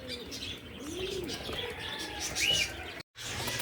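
Racing pigeons coo softly in a loft, giving low throaty calls and a brief higher chirp over a steady background hum, fairly faint and unaccompanied by speech.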